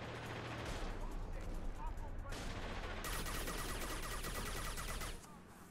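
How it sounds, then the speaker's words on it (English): Video game gunfire from Mass Effect 2, a steady stream of shots running for most of the clip, loud and close, with a player talking over it. "I'm gonna shoot you some more"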